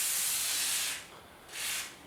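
A can of WD-40 is sprayed onto a stuck VW Beetle engine cylinder, making two close bursts of hissing spray, a longer one and then a shorter one, at moderate volume with nothing else heard.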